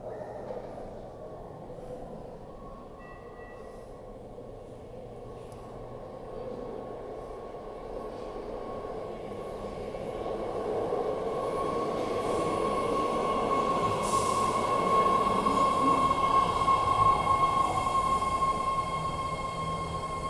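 A 10-car BART Fleet of the Future Yellow Line train rumbles into the underground platform at 19th Street Station, growing louder over twenty seconds with a steady hum and a thin high squeal of wheels and brakes.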